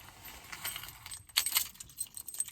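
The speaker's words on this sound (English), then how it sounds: "first thing I do is lock my doors" A bunch of keys jangles up close while car doors are being locked, with bright metallic clinks and rattles coming in quick irregular bursts over a quiet background.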